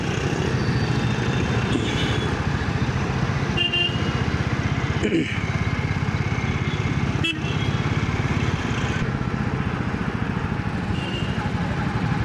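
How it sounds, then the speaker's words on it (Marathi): Steady morning road traffic at a signal in Kolhapur, a dense continuous rumble of engines with occasional brief horn toots and passing vehicles, loud and close throughout. "ट्रॅफिक बघू शकता सिग्नलला."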